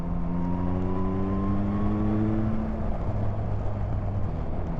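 A 2023 Yamaha XSR900 motorcycle pulls in sixth gear from about 3,000 RPM, a steady loud engine drone with a rising tone, heavily overlaid by wind rush.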